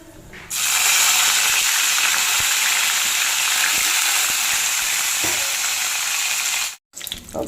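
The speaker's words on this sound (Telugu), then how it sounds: "కరివేపాకు వేస్తే చిట్లేసింది అంతా" Curry leaves drop into hot oil in a pan of upma tempering with cashews and dried red chillies, bursting into a loud, steady crackling sizzle for about six seconds before cutting out abruptly.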